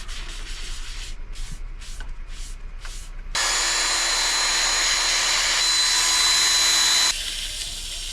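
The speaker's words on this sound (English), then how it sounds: "We have that sanded up to 400 grit." Sanding a wood turning on the lathe: several short rhythmic scrubbing strokes, then a steady, louder sustained sanding roar for a few seconds before easing back.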